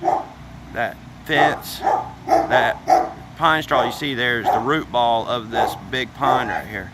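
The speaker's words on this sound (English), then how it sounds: "Sorry about the dogs. They haven't stopped since I've been here." Dogs barking repeatedly in a yard near a fallen big pine and a shed, under someone talking close by.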